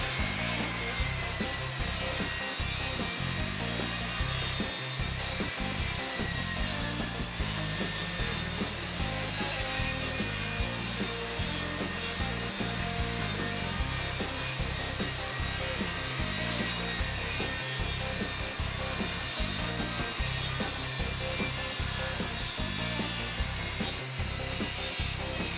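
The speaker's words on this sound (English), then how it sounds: "Then I can run my saw up against this and it'll cut it at 12 inches and make a straight cut all the way down" A power saw rips a long straight cut down a wooden board for an entertainment center, guided along a fence, giving a continuous loud whine and rasp with small rhythmic bumps throughout.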